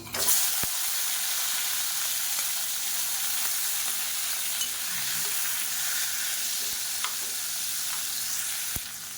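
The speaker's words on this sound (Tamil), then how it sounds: "இப்போ தக்காளி நல்லா வதங்கிடுச்சு" Tomatoes sauté in hot oil for a thakkali chutney, giving a steady, close, dense sizzle and hiss that holds evenly throughout, broken by a few faint clicks from stirring.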